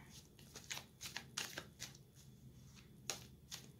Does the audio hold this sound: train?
no